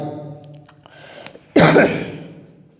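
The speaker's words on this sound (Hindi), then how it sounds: "सॉरी खांसी का मसला हो गया" A single loud, abrupt cough bursts out near the microphone after a few seconds of quiet breathy sounds, then fades.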